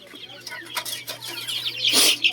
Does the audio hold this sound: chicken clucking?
yes